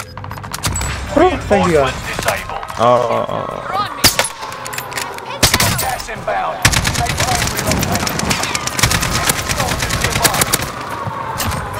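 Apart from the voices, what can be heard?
gunfire in a video game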